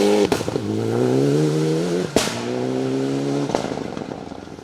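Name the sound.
Mitsubishi Evolution 9 rally car engine popping and banging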